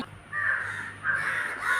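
A flock of crows caws nearby in two harsh, drawn-out bursts, one after the other, with no voices.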